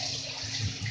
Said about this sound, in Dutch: Ik moet douchen nu lekker aan.